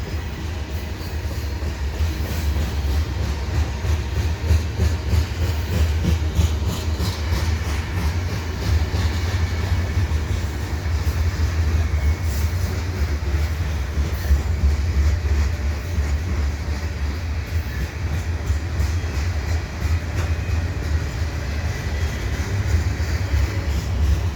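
Freight train led by three locomotives hauling new covered grain hopper cars past Dorval, a steady loud rumble with continuous wheel clatter and rolling noise throughout, no voices.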